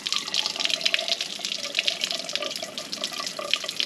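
Water splashing and trickling out of a damaged Ford Model B engine cylinder as the crank is turned, a close, uneven stream of wet spattering and drips lasting several seconds.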